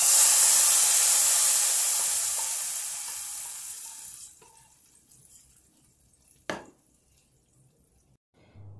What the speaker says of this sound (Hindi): अब मैं दाल के ऊपर इसका तड़का लगाऊंगी।